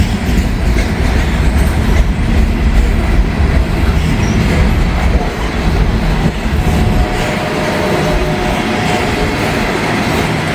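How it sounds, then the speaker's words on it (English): A Norfolk Southern coal train rolls past close by, loud rumbling wagons with rhythmic wheel clatter and faint squeals, easing a little toward the end, with no talk. "Now let's see if the coal train makes it all the way down."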